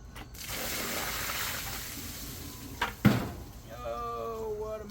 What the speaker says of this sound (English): Take a little break while we dump out this bucket.